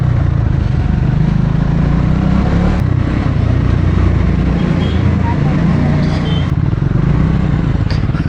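Adventure motorcycle riding over a broken, potholed road, with a loud, steady engine drone and wind rumble, and occasional clattering knocks from the uneven surface.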